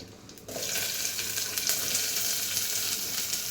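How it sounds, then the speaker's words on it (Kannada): Onions sizzle loudly and steadily after hitting a hot pan for hotel-style radish sambar, a continuous bright frying hiss with light stirring. "ನಾನು 2 ಮೀಡಿಯಮ್ ಸೈಜ್ ಈರುಳ್ಳಿನ ಹಚ್ಕೊಂಡಿದ್ದೀನಿ,"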